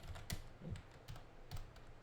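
Someone typing a Git version command on a computer keyboard, a handful of soft, irregular key clicks, faint and close, with no talking.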